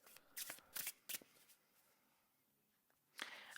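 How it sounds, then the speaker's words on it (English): Oracle cards shuffled by hand in several short riffling bursts with pauses between, close and fairly loud, no talking. "I'm going to shuffle some more oracle cards off camera."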